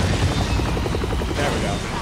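A helicopter in the Resident Evil 6 video game produces a steady, loud rotor roar with rhythmic chopping throughout, continuous and close.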